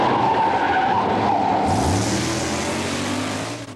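A drag racing car skids with a loud, sustained tire screech, then its engine note climbs as it pulls away, the sound fading slightly at the end.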